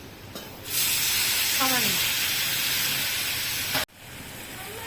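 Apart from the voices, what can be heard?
water added to hot frying spices, sizzling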